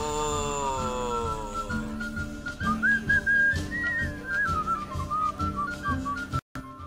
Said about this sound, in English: I love that little tune and that little flute.